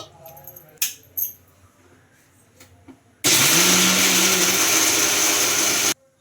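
A mixer grinder starts abruptly and whirs loudly and steadily for about three seconds grinding coconut chutney with a little water, then cuts off. A few clinks and light handling noises come before it.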